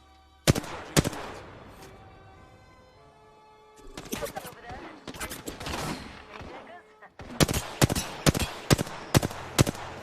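Gunfire in the Apex Legends battle royale: sharp loud shots in bursts, a few isolated cracks early, then a busy stretch of rapid fire and a final run of heavy evenly spaced shots.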